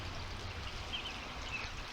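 Liquid pours steadily into a measuring cup during a science experiment, a soft, even trickling and fizzing that holds quietly at close range for the whole moment.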